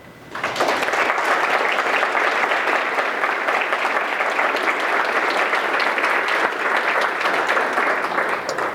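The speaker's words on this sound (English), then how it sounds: "I would like the folks with Parkinson's to give them some applause right now." A large audience at a talk applauds loudly and continuously for several seconds, a dense, steady wash of clapping that starts abruptly and holds without voices.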